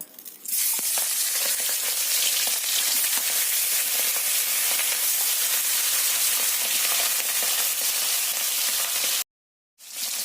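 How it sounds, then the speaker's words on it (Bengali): Hilsa fish fry in hot mustard oil with a loud, continuous crackling sizzle. It begins after a soft start, and a brief silent break comes near the end. "তেলটা খুব ভালো করে গরম হয়ে গেছে এবার মাছগুলো ভেজে নেব"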